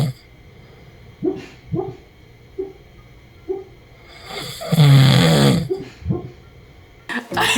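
A man snores loudly in bed, a series of close rough snorts at a steady pace followed by one long rattling snore, with a brief sharp noise at the end.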